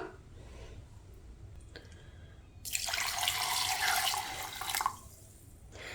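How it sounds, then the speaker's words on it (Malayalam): Water pours into a container for homemade sugarcane-style juice made without sugarcane, a loud splashing stream lasting about two seconds after a quiet start, then stopping. "ഇനി നമുക്ക് ആവശ്യത്തിന് വെള്ളം ചേർത്ത് കൊടുക്കാം"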